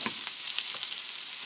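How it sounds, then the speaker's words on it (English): Carrots and peppers frying with tofu in a pan, a steady close sizzle with a few soft stirring scrapes, no talking. "Now I'm going to add our carrots and our peppers. Same thing. Give it a stir."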